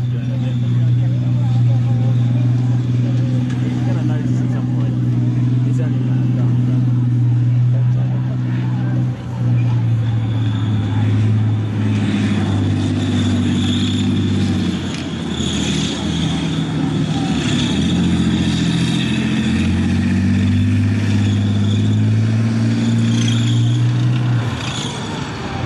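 A Terrier armoured engineering vehicle drives past at a Tankfest army display, its heavy engine droning steadily throughout, loud and close, with a commentator talking over it.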